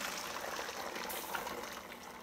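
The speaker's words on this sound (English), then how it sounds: "I'm just going to pour this blanched celery in here" Blanched celery is poured onto a dehydrator tray, making a continuous wet, splashing pour with soft watery crackle throughout.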